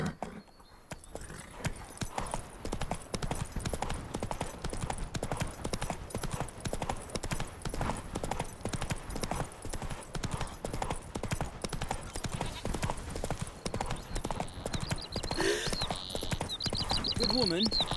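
A horse's hooves clip-clop in a fast, steady galloping rhythm throughout, close and loud, in the video game The Witcher 3, with a brief whinny and faint game voices near the end.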